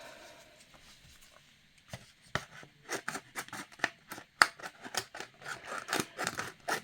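Scissors snip close by, a quiet start building into a steady run of crisp, rhythmic cuts, each blade closure a sharp click, roughly two or three per second, with no voices.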